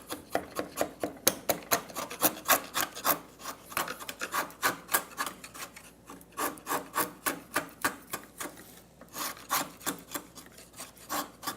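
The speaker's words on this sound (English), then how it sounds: "I was able to chisel right across that knot" A hand chisel cuts across the grain of wood and through a knot in a tenon, giving a steady series of sharp, rasping scrapes and chops, close and fairly loud, repeating in an even rhythm with no talking.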